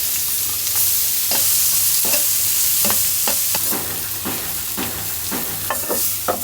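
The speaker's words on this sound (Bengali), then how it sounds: "অল্প তেলে ভেজে এই তেলেই রান্না করব" Fish and onion frying side by side in a little oil, a bright continuous sizzle with a string of spatula scrapes and taps at an irregular rhythm, close up and loud without speech.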